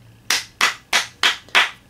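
Five sharp hand claps, evenly spaced and close, each a crisp bright snap with quick decay and nothing else around them.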